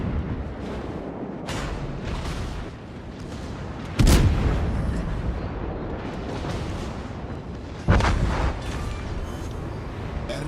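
Battleship guns boom in a naval battle video game, with two heavy blasts landing a few seconds apart over a steady rumble of combat noise.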